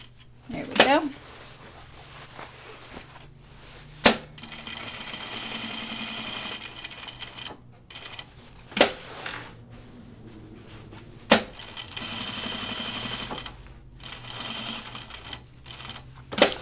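A home sewing machine stitches a Ginger Jeans denim seam for the second time, running in steady whirring bursts broken by sharp clicks and pauses, while a person talks over parts of it.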